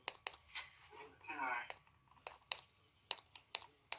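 Sharp, high-pitched electronic beeps from the buttons of an Oregon Scientific WRS101 radio come in short pairs and singles at an uneven pace, with a little talking in between.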